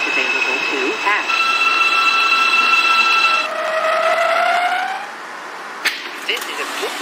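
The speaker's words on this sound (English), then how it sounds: "This is a Brooklyn-bound C local train." A simulated Alstom R160A subway train on the Brooklyn-bound C local hums with steady whining motor tones, then a pitch-rising whine as it slows, followed by a sharp clunk; speech and low rumble accompany it.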